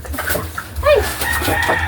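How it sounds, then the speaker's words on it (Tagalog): A chicken clucks and squawks close by, a short rising call standing out over background noise. "may manok makapasok"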